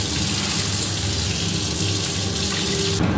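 Water pours steadily into a pot of chicken vegetable soup, a loud continuous close gush that cuts off abruptly near the end.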